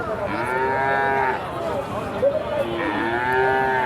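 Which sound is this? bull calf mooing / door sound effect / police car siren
bull calf mooing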